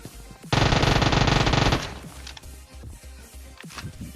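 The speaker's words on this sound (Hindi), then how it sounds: "मेरे पास एक ढंग की गन आई थी उजी, और अब बारी 3 बंदों को भी मारने की" An UZI in PUBG Mobile fires one loud, sustained burst of rapid automatic shots lasting just over a second, followed by a few scattered softer thuds.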